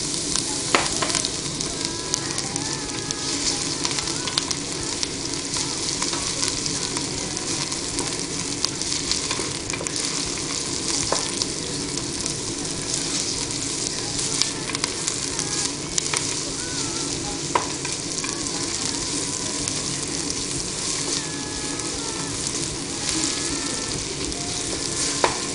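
Chopped onion frying in hot olive oil in a pan, a dense continuous sizzle with occasional crackles and faint stirring scrapes, close and steady for the whole stretch, with no talking.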